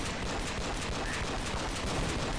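Sustained, dense gunfire aimed at a zombie in Counter-Strike Nexon: Zombies, a loud continuous barrage of overlapping shots filling the whole moment with no pauses.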